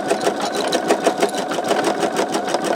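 An embroidery machine stitching out a sugar skull design keeps up a steady, fast mechanical chatter with an even rhythm of needle strokes, loud and close, with no voices.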